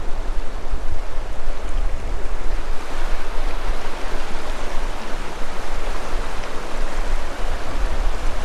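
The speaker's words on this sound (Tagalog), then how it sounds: "Medyo malakas kasi yung agos" A strong river current roars steadily and close by, a dense, continuous wash of flow with no pauses.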